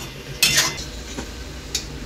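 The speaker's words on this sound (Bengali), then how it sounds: "তো এটাকে আমরা কিছুক্ষণ একটু মাখাবো" A spoon stirs khichuri ingredients in a pot, giving a few distinct metallic clinks and scrapes spaced irregularly against a quiet kitchen background, with no talking.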